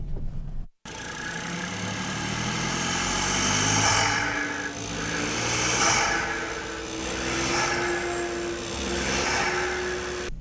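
A Volkswagen Up GTI engine with a stage 3 tune runs loud and close after a brief silence, its drone rising and falling in slow surges with a whistling, whooshing edge.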